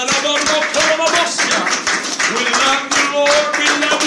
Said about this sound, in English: Let's clap our hands unto the Lord one more time here today.